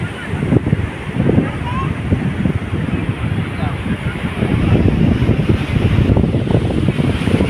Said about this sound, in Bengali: ঠান্ডা হাওয়া, খুব ভালো লাগছে।